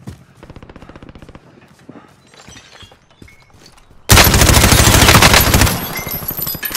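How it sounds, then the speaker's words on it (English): Video game gunfire rattles in rapid bursts, quieter and distant at first, then a sudden loud, sustained volley close by. "Oh, shots at me."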